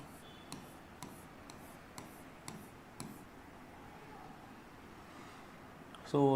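Pen or pencil writing numbers by hand, heard as a soft continuous scratch with a few sharper taps at regular intervals early on, quiet and close, ending in a brief louder noise.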